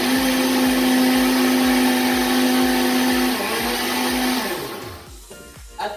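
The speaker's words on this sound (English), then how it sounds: "now blend this to make a very good fertility smoothie" An electric blender runs loud and close while blending a fertility smoothie, its motor whining steadily, then slowing and winding down to quiet near the end.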